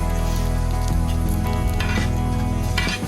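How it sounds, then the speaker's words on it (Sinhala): Garlic sizzling steadily in hot oil in a pan, a continuous dense crackle with a low hum underneath, close and loud, with no voices. "ඉස්සෙල්ලාම තෙල් ටිකක් දාලා ඒකට සුදු ලුණු ටික දාලා බෙදෙන්න තියනවා ටිකක්."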